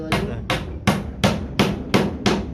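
Nails are hammered into wood while a house door is being built, with seven loud, close, evenly spaced strikes landing about every third of a second, each a sharp crack with a brief ring.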